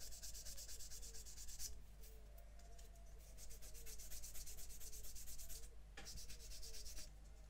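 Plastic parts from a 1/72 Airfix Avro Vulcan B.2 kit being cleaned up by sanding, giving a steady, soft close-up rubbing scrape that runs continuously with slight pauses, alone and fairly quiet.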